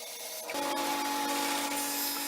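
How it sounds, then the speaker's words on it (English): Bandsaw resawing walnut strips vertically, a steady loud machine whine with the blade tone starting half a second in and then holding continuously with no talk. "They end up being just under 1 inch thick after I run them through the bandsaw."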